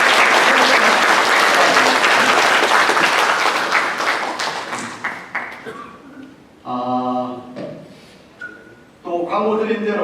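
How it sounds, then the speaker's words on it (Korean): A church congregation applauds parents, the clapping loud and dense at first, then thinning into scattered claps with voices coming through as it fades. "박수로 한번 격려해야 되지 않겠습니까?"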